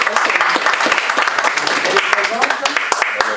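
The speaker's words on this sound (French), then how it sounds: "merci pour applaudir Marie-Angélie Estinfil" Dense applause from an audience at a live event in Paris, many hands clapping steadily close by for several seconds, sharp claps standing out from the continuous wash.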